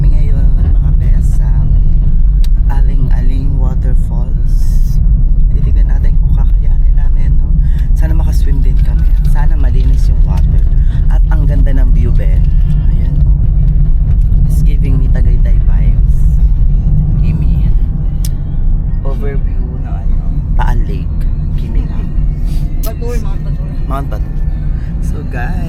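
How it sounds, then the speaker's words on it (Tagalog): A car drives on a road in Bali, heard from inside as a loud, steady low engine and road rumble that runs the whole time beneath ongoing talk. "pahinga lang kami dito sa car habang nagda-drive na yung driver namin"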